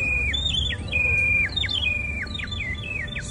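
A nightingale in a Mariupol park sings a series of clear, repeated whistling phrases and chirps, close and loud over a low rumble of background noise.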